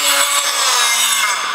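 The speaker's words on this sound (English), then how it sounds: "we're just going quick, just to get all those quick burrs out" A power tool bit spinning against aluminum to deburr it, a loud continuous high grinding whine with a steady motor tone, close and alone.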